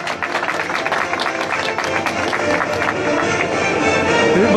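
An audience applauds at a newspaper award ceremony as a presenter is called up, giving dense continuous clapping with crowd noise and a voice speaking over it.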